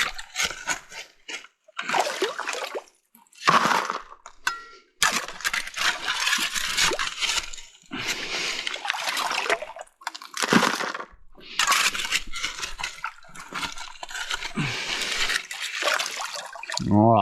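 Gravel being dug from a New Zealand creek bed at Nelson Creek during gold prospecting, with repeated loud crunching, scraping and wet splashing bursts in an irregular rhythm, close by.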